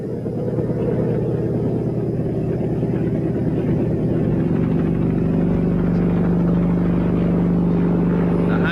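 A helicopter drones loudly and steadily in the winter of 1963, a constant low engine and rotor hum filling the whole stretch with a slight shift in pitch midway, no talk over it.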